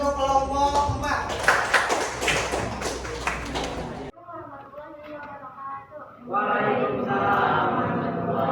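Students in a class clapping for a group about to present, loud dense clapping at first, then a pause with scattered sounds, and clapping rising again toward the end, with some voices mixed in.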